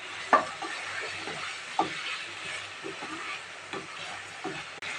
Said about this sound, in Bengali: কাবলি ছোলা সেদ্ধ করে রাখছিলাম সেটা দিয়ে নাড়াচাড়া।